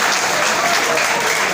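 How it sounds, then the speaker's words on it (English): Audience at a school founder's day gala gives a former grammar school teacher a round of applause, dense steady clapping from a large crowd filling the whole moment. "let's have a round of applause for him"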